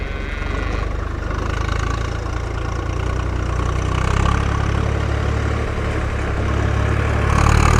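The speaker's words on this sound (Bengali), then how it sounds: "আর এদিকে ট্রাক্টর আসছে।" A tractor crossing a dry Padma river sandbar runs with a loud, steady diesel rumble and a low knocking chug. The engine is close and grows slightly louder as it nears, with no talk over it.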